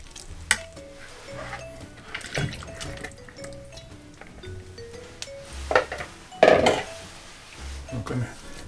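Lamb neck pieces are dropped back into a pan of fruity Indian curry with clanks and clinks of a metal spoon against the pot, a few heavier knocks, close and busy.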